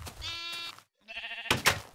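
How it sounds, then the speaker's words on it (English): Sheep bleating in the game Minecraft, a short nasal bleat followed by a second after a brief silence, clear and close with no talk. "Look at the little baby sheep."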